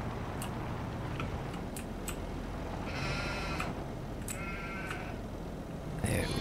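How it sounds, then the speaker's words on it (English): Sheep and goats in Farming Simulator 22 bleat a few times over a steady farm ambience, with short, moderately close calls spread across the clip and one longer bleat in the middle. "Goat, goat, sheep."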